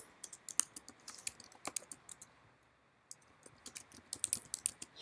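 Typing on a computer keyboard into a text box, with quick bursts of light, close clicking keystrokes. One short pause splits two runs of steady typing, and no voices are heard.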